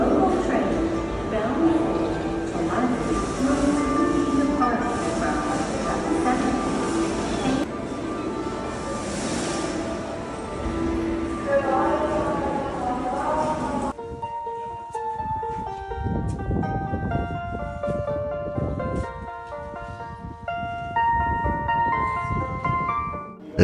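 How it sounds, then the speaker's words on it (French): A koto-based departure melody rings out on the platform of Kanazawa station in Japan, a plucked tune over station bustle and crowd noise, clearer toward the end, with voices in the background. "Sur les quais de la gare de Kanazawa, on peut entendre une petite mélodie à base de koto."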